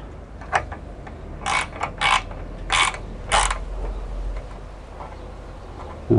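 Fittings on a sectional garage door being tightened with a hand tool, heard as short bursts of close mechanical ratcheting clicks separated by pauses, with no talking.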